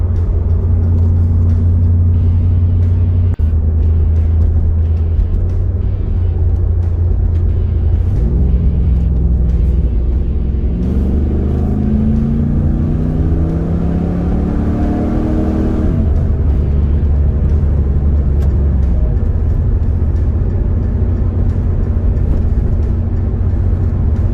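A 1999 30th Anniversary Trans Am runs with a deep, loud V8 rumble at a steady idle, then climbs through a couple of rising revs before settling back to idle, heard close up.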